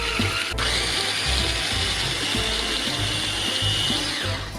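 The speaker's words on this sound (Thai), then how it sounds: "ทีนี้เราปั่นกันค่ะ เราจะปั่นกันไปเรื่อยๆนะคะ" A blender running steadily as it blends a vegan no-bake cheesecake base, a loud continuous motor whir with grinding texture that holds throughout without pause.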